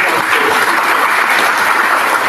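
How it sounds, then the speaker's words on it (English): Dense audience applause at a conference welcome ceremony, a steady wash of many hands clapping at full strength with no pauses and no voices on top. "Can we have a huge round of applause,"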